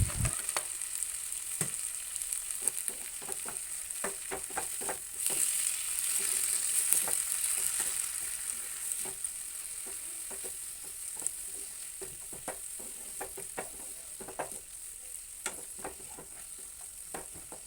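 Tomatoes and spices fry in a pan for an egg curry, a steady bright sizzle running throughout with frequent sharp clicks and crackles of spattering oil and occasional stirring, close and moderately loud, no talking.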